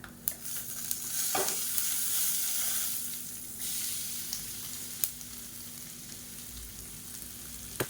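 Coconut and coriander paste sizzles and fries with masala in a pan, a steady hiss broken by a few sharp stirring scrapes and clicks, close and fairly loud.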